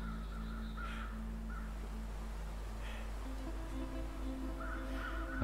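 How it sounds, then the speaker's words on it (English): A few harsh crow caws in The Long Dark survival game ring out over a steady low ambient drone, spaced apart with brief bursts near the start, middle and end, moderately distant. "Those crows over there could be indicating a dead wolf."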